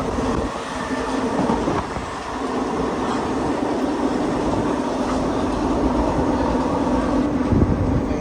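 Interior of a moving passenger train, a steady low rumble with rhythmic wheel clatter and rattling, continuous and fairly loud, no talking.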